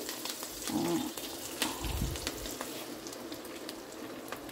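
Lentils fry in oil in a pan for a Telangana breakfast upma, a fairly quiet, steady sizzle with a few dull stirring scrapes and bumps, without talk.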